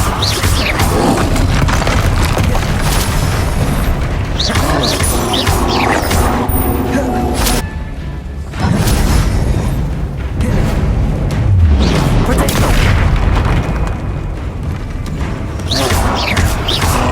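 Bombarda blasting spells from Hogwarts Legacy go off as loud, dense booms and crashes through a busy game fight, one burst after another with brief lulls, while a voice calls out in the background.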